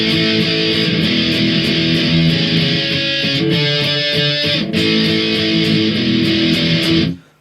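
Guitar strumming the next part of the chorus of the song with simple downstrokes, each chord shape repeated four times; dense, steady and loud, with no voices, ending abruptly.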